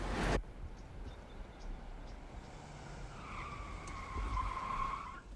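A car skids and its tires squeal as it brakes hard to a stop in the 1994 action movie Speed, preceded by a sharp burst of noise and followed by a rising screech that lasts several seconds, loud, with no talk.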